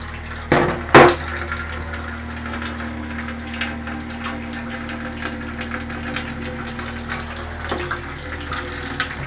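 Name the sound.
water poured into a darkroom tray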